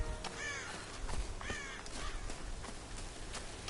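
Crows caw in a video game set in Tomb Raider's wilderness, several harsh calls spaced irregularly across a few seconds, fairly close and clear over a soft ambient bed.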